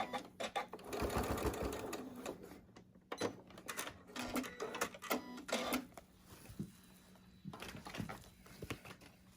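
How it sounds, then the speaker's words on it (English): A sewing machine stitches fabric for 4-H Christmas ornaments and hot pads, turning off a seam at an angle, with rapid mechanical bursts of stitching broken by short pauses and clicks, close and loud. "She's going to stop 1/4 away and sew off at an angle."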